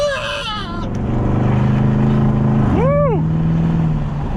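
A 2016 GMC Sierra single cab 4x4 pickup with 141,000 miles idles with a steady low rumble, heard through an open window, while rising and falling tonal whistles and a voice sound over it.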